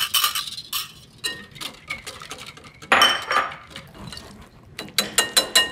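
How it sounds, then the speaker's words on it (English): A whisk clinks and scrapes against a bowl as egg yolks are beaten into melted chocolate for a s'more chocolate mousse, a run of close, bright metallic taps with brief pauses, no talking. "Whisk the egg yolks right into the chocolate."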